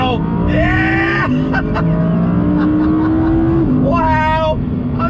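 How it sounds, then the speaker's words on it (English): Naturally aspirated V10 of an Audi R8 revving hard through the gears with audible downshifts, sweeping engine harmonics rising and dropping, loud and close, with a voice talking over it. "the sound of that V10 right behind us, absolutely just harmonious"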